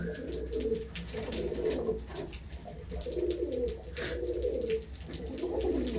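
Madras pigeons coo in low, repeated throaty rolls, several overlapping calls close by, with faint rustling in the background.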